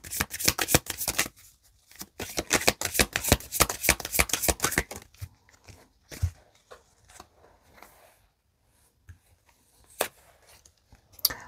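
Tarot cards shuffled by hand, a fast run of crisp riffling flutters for about five seconds, then sparse taps and slides of cards being handled, close and clear with no talking.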